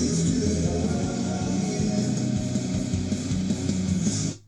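A full-band mix of a cover song plays, with drums, bass, guitars and vocals layered together in a dense, steady wash for a few seconds before cutting off.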